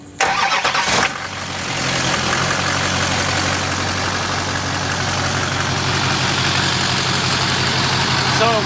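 A truck engine cranks and catches, then settles into a steady, loud idle with a continuous low rumble; the starter is still unrepaired.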